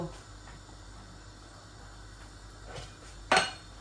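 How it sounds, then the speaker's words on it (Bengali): A single clear clink of a spoon against a cooking pot as one spoonful of sugar goes into a wedding-style chicken roast, set against a steady, quiet background hum. "আর আমি 1 চামচ চিনি দিব।"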